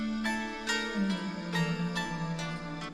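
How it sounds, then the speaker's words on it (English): A bouncy hip-hop beat with added vox and pad layers plays alone. It holds repeating bright plucked hits over a sustained low pad line that glides in pitch partway through. "So with the Vox and the pad, it sounds like this."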